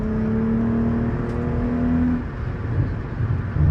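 A Hyundai Genesis Coupe engine runs with no mufflers, a loud raw drone that holds steady and then drops into a rougher, uneven idle, close by with no talking.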